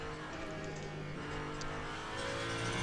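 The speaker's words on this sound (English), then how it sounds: "I really like the sound design as well. I thought you can hear the turbo whine under" Ferrari 499P hypercar in the Le Mans Ultimate racing game, a steady engine drone with a thin turbo whine laid over it, holding constant and close with no voices.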